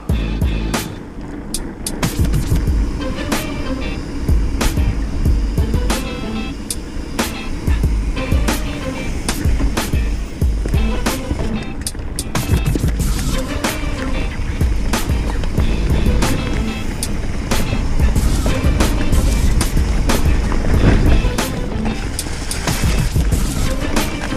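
A mountain bike rattles and thumps fast down a lumpy trail at night, dense irregular impacts and chatter over steady rolling noise, loud and close throughout with no talking.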